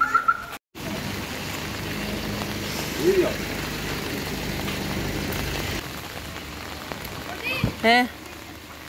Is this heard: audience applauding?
no